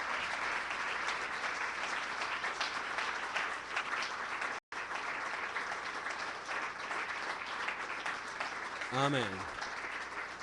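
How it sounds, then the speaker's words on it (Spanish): A church congregation claps loudly and continuously during a Spanish-language sermon, sustained dense applause filling the room, with a voice briefly calling out over it near the end. "Vamos a darle, pero un fuerte aplauso a nuestro Señor Jesucristo"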